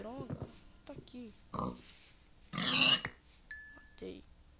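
Pig oinks in the Minecraft video game, a few short grunting calls from the in-game animal mixed with other game sound effects, with no talking over them.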